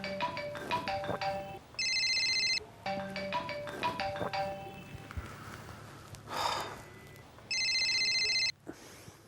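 A mobile phone rings unanswered: repeated electronic ringtone bursts in a melodic pattern, with a piercing high beeping tone returning twice, moderately near, and faint breathing and sighs in between.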